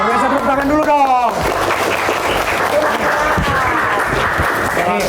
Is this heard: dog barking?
no